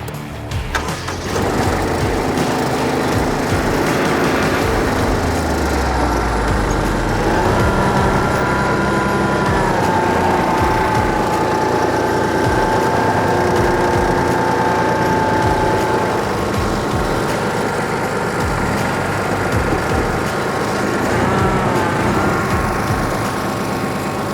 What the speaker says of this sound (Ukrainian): Перевіримо передок і блокіровку заднього диференціала під нагрузкою.